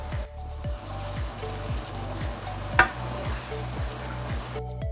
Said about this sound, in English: we can put in the strawberries and let simmer for under half a minute